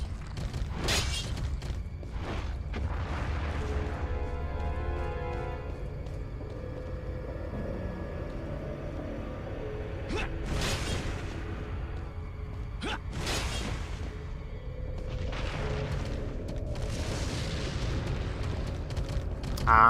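Incendiary grenade going off in Resident Evil 4, a deep booming blast followed by crackling fire and scattered sharp game effects over a steady low rumble, with no talk.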